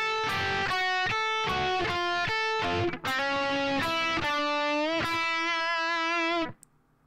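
Distorted electric guitar plays a blues rock turnaround, repeated plucked notes over a held high E pedal note, descending step by step, loud and close, then cut off near the end.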